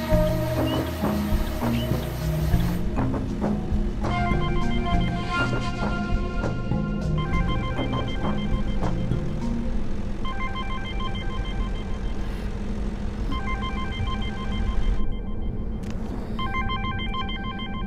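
A telephone rings repeatedly in a movie scene, its regular bell pattern sounding over a steady background music score at moderate volume.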